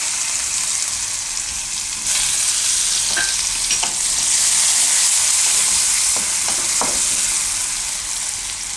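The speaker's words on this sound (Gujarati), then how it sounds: "તેલ આપણું ગરમ થઈ ગયું છે, તો એમાં આપણે પહેલાં જીરું નાખીશું, અને પછી આપણે લસણ ને મરચાં નાખીશું." Cumin, garlic and chilies crackle and sizzle in hot oil in a pan, a bright continuous hiss that grows louder as ingredients go in, with a few scraping stirs.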